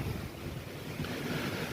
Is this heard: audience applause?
no